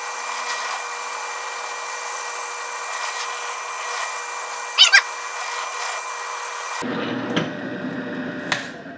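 A power drill whines steadily as it bores through redwood in a home garage, a close, continuous motor drone that cuts off and drops to a lower hum near the end, with a couple of brief knocks.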